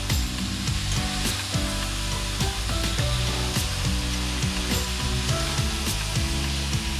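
Cut bottle gourd stirred into a pan of fried spice paste for a vegetarian lau ghonto, a continuous sizzle and scraping stir that carries under a steady tonal backdrop of music.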